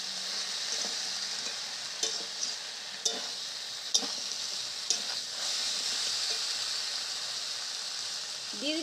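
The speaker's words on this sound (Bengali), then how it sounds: "লাল ডাঁটাগুলো দিয়ে দিচ্ছি।" Red amaranth stalks frying in spiced oil, with a steady hiss of sizzling and sharp, spaced spatula knocks and scrapes against the pan.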